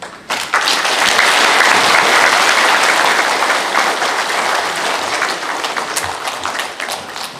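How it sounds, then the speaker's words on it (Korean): Loud, dense applause fills a Korean veterans' meeting hall as a lawyer is welcomed, steady clapping from a large crowd that tapers slightly toward the end. "변호사님 나오면 많이 박수로 쳐주세요."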